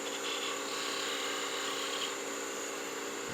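A spindle gouge cuts into wood spinning on a lathe while turning a gnome Christmas ornament, producing a steady whirring, hissing drone that stays even throughout at a moderate distance.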